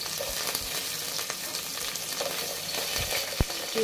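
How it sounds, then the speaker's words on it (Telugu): Mint, curry leaves and green chillies fry in hot oil with cashews for Hyderabadi bagara rice, making a dense, even crackling sizzle with a few sharp spatters and stir knocks up close. "వీటిని బాగా ఫ్రై చేసుకోవాలి"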